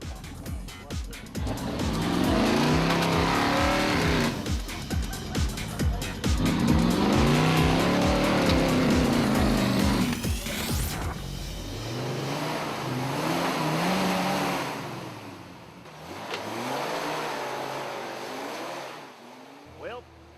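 A 3,000-horsepower, 600-cubic-inch supercharged off-road truck engine roars and revs hard, rising and falling loudly with a rough, throaty growl, then eases back to a lower, uneven idle.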